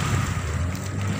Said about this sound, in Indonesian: ombak terlalu besar